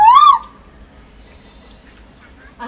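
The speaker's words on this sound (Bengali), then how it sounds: "ভালো লাগে বলো বসন্তের এই কোকিলের ডাক।" An Asian koel calls once in spring from a tree near a house, a single rising, whistled note at the start, loud and close, followed by near silence.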